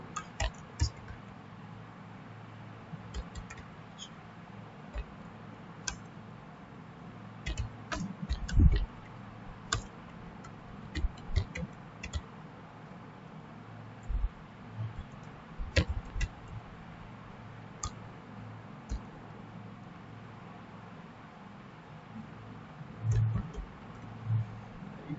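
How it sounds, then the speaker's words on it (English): A computer keyboard clicks faintly and sparsely as code is typed, with irregular single keystrokes and short bursts over quiet room tone. "So I'll be typing the code"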